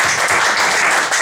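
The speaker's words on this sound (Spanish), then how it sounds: "Den un aplauso a nuestro Señor." A church congregation applauds in a dense, loud burst of clapping that continues steadily throughout.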